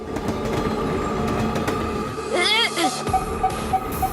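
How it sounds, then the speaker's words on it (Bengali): A fast-moving train rumbles with a steady rolling drone, a rising and falling squeal in the middle and rhythmic clicks near the end, mixed with animated-show sound effects. "Train থামেনি, train থামেনি।"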